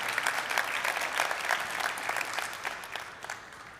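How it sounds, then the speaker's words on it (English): An audience at an international Rotary assembly claps in sustained, fairly even applause that gradually thins and fades toward the end, with no voices over it. "Please go ahead and clap."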